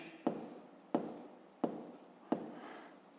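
Pen or pencil strokes write numbers on paper while a 5th-grade maths exercise is solved, four evenly spaced, close scratchy marks in a quiet room.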